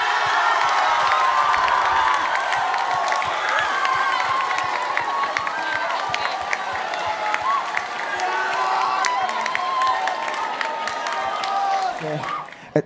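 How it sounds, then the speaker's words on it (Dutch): A large audience at a televised finale applauds and cheers loudly and continuously, with dense clapping, whoops and shouts filling the scene before it suddenly cuts off. "Mag ik een groot applaus voor Puur Plat."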